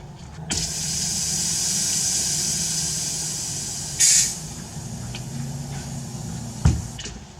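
Compressed air hisses from the regulator of an Edgun R5 .30 air rifle during a power upgrade, a steady bright close-up hiss with a short louder burst midway and a sharp click near the end.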